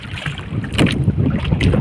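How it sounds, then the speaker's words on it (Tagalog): Strong wind buffets the microphone on a small boat out on the water, a loud rough roar with gusting surges and faint splashing, no voices. "Bigla pang lumakas yung hangin."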